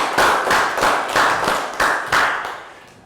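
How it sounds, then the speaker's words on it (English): A Year 3 maths class claps together for everyone in about seven sharp, rhythmic claps close by, which then trail off into quiet with no voices. "A round of applause for everyone,"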